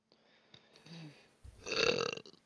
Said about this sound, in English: why are you burping